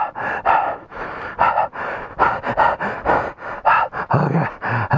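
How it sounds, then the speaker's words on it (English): Close, heavy breathing from someone walking at the Petrified Forest on a motorcycle tour stop: quick, rhythmic panting in and out, loud and near, with no talking. "Ready for the heavy breathing"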